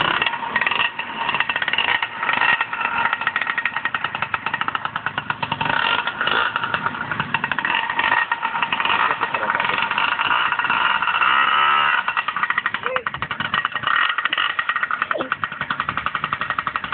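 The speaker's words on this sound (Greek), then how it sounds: "Και ήρθε η ευκαιρία σήμερα να βάλουμε το μοτέρ μπρος." A small motorbike engine with a carburetor needing adjustment runs at a fast, rattling idle, loud and close, holding steady throughout with faint clanks in the background.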